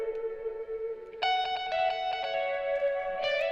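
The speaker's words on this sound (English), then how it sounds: "And then for that glitch effect right there" An electric guitar riff run through a ShaperBox glitch effect, the sustained tone suddenly chopped into rapid stuttering rhythmic slices that repeat in bursts, clean and upfront with reverb.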